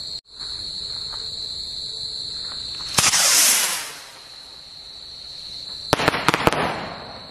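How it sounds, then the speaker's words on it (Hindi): A homemade sound rocket built from bijli firecrackers whooshes up with a rushing hiss, followed by a cluster of sharp crackling bangs, heard over a steady chorus of nighttime insects. "हमारा 10 साउंड रॉकेट सक्सेस रहा। एक और जला के देखते हैं।"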